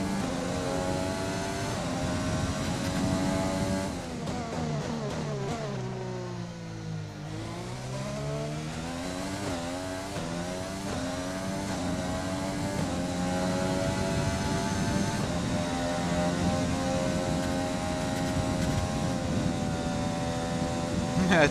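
F1 car engine in F1 2020 at the Belgian Grand Prix, screaming at high revs, then dropping sharply in pitch as the throttle is lifted before climbing back up through the gears, loud and continuous, with someone talking over it.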